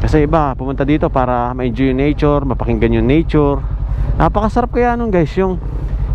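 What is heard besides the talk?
No distinct noise like a dog, phone or traffic.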